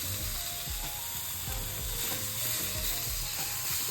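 Food frying in oil in a pan makes a steady, dense close sizzle with faint rhythmic clicking from stirring underneath, heard alone with no talk.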